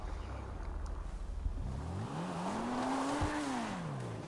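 Car engine revving and accelerating while driving in the video game Far Cry 6, a steady droning tone that climbs in pitch and then falls away, fairly loud and close, with no talking over it.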